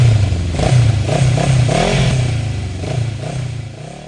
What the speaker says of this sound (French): c'est celui d'une moto, pas d'une voiture que l'on entend.